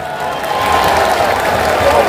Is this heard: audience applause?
yes